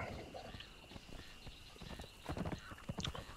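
Horse hooves clip-clopping in Conan Exiles, a quick irregular run of hoofbeats that grows louder and busier toward the end, with a brief whinny-like call.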